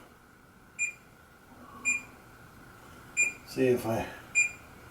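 A kitchen timer being set, giving four short, sharp electronic beeps at irregular intervals, close by, with a person speaking briefly between them.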